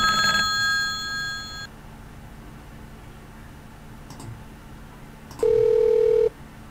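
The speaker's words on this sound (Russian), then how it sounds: "входящий звонок и исходящий звонок" Windows 3.1 for Workgroups incoming and outgoing call sounds: a ringing tone opens, a soft click follows mid-clip, then a steady electronic beep tone sounds near the end, with no speech.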